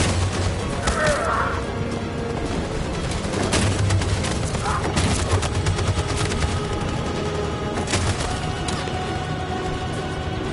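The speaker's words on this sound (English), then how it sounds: "That machine gun is taking down everything that moves!" Machine gun fire in Detroit: Become Human rattles without pause, a dense barrage mixed with scattered booms and impacts, loud throughout, with faint voices now and then.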